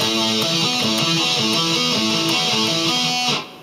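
Electric guitar picking a riff, each note cut short rather than sustained, played in an even rhythm that stands alone before a quick fade at the end.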